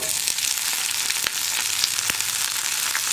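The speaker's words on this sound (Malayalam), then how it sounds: "വറ്റൽമുളകും ചേർക്കുക. അതുപോലെ തന്നെ നമ്മുടെ കറിവേപ്പിലയും ചേർക്കുക." Dried red chillies and curry leaves fry with fenugreek in hot oil for sambar, a steady close sizzle with small pops and crackles throughout.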